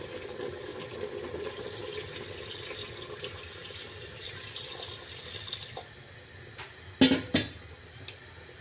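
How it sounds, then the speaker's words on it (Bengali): Water is poured into a pot of frying chicken soup in a home kitchen. Soft running water is followed by a few louder splashes and clinks near the end. "আমি জল দিয়ে দিলাম।"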